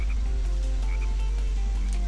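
A frog croaks in the video game Sonic Heroes, a steady run of low croaks over game music with no talking.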